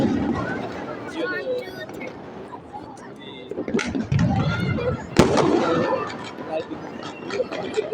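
New Year fireworks crackle and pop with a burst of sharp bangs, some nearby, amid a continuous outdoor rumble as people talk over the noise.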